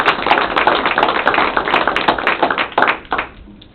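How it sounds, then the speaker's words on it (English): A small room of people at a city council meeting claps, a loud, close, uneven patter of hands that swells in bursts and then drops off abruptly near the end. "So a round of applause for Pat for organizing."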